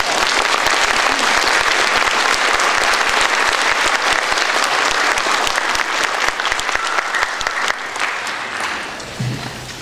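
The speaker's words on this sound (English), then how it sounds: "Let's give our NTHS seniors a round of applause" Sustained applause from a ceremony audience honoring National Technical Honor Society seniors at an induction event, dense, even clapping that holds steady for nearly ten seconds before thinning at the end.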